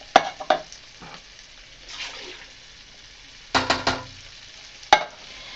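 Canned green beans tipped from cans into a pot, sharp metallic clanks and knocks followed by wet sloshing pours, a few separate bursts close up with quiet gaps between, no voices.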